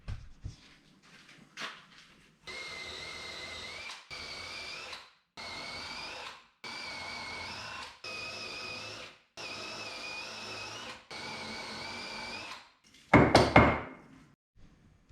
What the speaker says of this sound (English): drill some holes in my bit of wood.